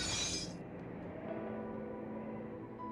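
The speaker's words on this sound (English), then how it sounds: "I flinch at the sudden sound of glass shattering." Glass window shattering in Robotics;Notes, a sudden bright crash at the very start that cuts off within half a second, leaving a low steady rumble of rain and wind.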